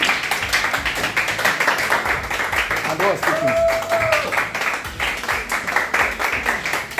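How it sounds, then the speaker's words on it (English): A lecture audience on drug and substance abuse keeps up dense, continuous applause to welcome a speaker, with a voice speaking briefly over the clapping. "Keep clapping for. Clap for your auntie. Clap on."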